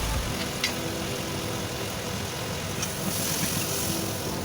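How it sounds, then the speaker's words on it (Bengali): Spice paste with green chillies and a little water fries in a pan for papaya dalna, giving a continuous soft sizzle with faint scraping and a low background hum, and no one speaking. "এবার মশলাটা আমার ভাজা ভাজা হচ্ছে"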